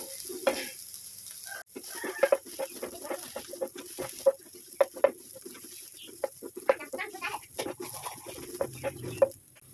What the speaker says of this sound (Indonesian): Ini kita tumis bawang merahnya sampai dia kuning keemasan ya teman-teman,